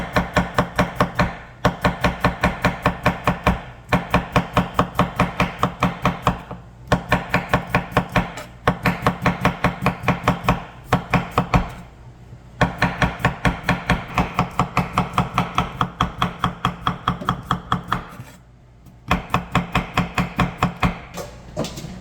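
A knife slices cucumber thinly on a cutting board in a fast, steady run of sharp chops. The rhythm breaks into bursts with short pauses, and no one speaks.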